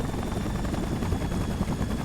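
Helicopter rotor roar from a boss fight in the Spider-Man 3 video game, a steady loud broadband thrum with low chopping pulses, continuous and close throughout.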